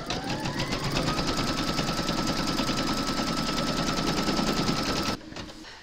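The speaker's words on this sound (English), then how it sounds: "And then you're going to stitch round number 1, and that's going to give you a placement outline for your batting" An embroidery machine stitches an appliqué placement outline for batting in a Mrs Claus design, running as a loud, fast, steady mechanical rattle that stops abruptly near the end.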